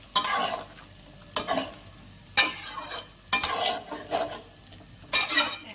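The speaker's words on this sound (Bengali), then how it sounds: "সামান্য চিনি দিয়ে দিলাম, দিয়ে একটু ভালো করে নাড়াচাড়া করে নেব" Drumstick (sajna data) chorchori being stirred in a pan after a pinch of sugar goes in: five or six scraping, sizzling strokes of a spoon, with faint clinks of metal on the pan between pauses and no voices.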